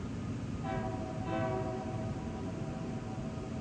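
A 14,000-ton grain train approaches on a hill, its horn sounding in two moderately distant blasts over a steady rumble of rail noise.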